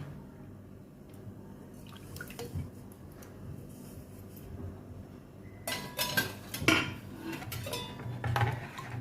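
Kharvas mixture of colostrum milk being stirred in a pot, soft liquid swishing with sharper metal clinks of the spoon against the pot, getting louder in the last few seconds.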